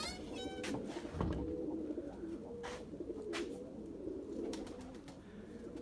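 Faint, soft cooing of pigeons at a distance, with occasional wing flaps and light chirps over a quiet background.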